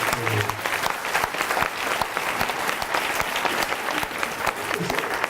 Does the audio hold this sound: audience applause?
yes